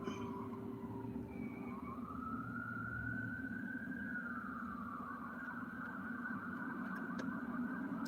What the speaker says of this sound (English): All right, that is a police car.